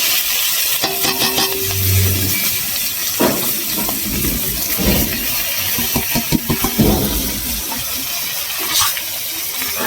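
Boiled vegetables tipped into a hot pan of spices released in oil, giving a loud hissing steam sizzle with scattered clatters and bumps, close and continuous.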